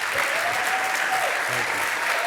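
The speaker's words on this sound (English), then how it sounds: "I want everybody to give Larry a big applause" An audience at a panel event applauds Nike executive Larry Miller, a brief, full burst of crowd clapping with a voice briefly audible over it.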